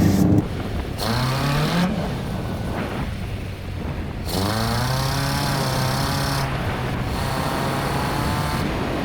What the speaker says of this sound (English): adding throttle mid-corner at the corner exit to try and get it sideways